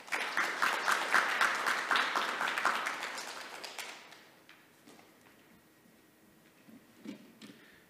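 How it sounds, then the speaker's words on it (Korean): A conference audience gives sustained applause to welcome a keynote speaker at an academic meeting opening, the clapping strong for about four seconds then thinning to scattered claps and faint room noise. "네, 큰 박수로 맞이해 주십시오."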